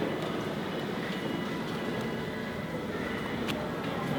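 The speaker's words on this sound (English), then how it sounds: "There's the Yamanote line going by." A JR Yamanote Line train rolls past Harajuku Station, heard from a nearby bridge as a steady, loud rumble of wheels and carriages that holds throughout, with no talking.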